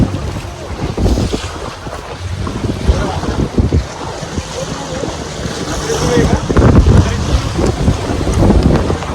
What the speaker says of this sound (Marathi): आता ह्या 2 खडकांच्या मधून आपली बोट जाईल.